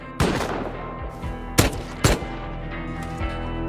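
Gunfire in the survival game Rust as attackers shoot at auto turrets, several sharp, loud shots in an irregular sequence with short bursts and ringing decay between them.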